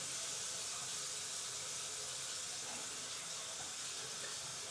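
Water runs steadily from a tap while hair is being wetted, a constant soft hiss with no pauses or voices throughout.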